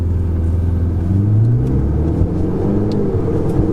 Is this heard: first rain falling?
no